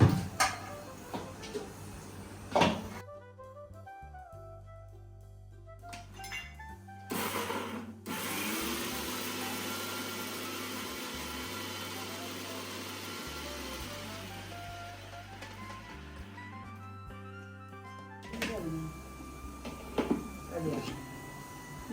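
An electric mixer grinder crushes shallots, a garlic clove, fennel seeds and coconut in short whirring bursts separated by pauses, with a steady machine hum and someone talking between runs.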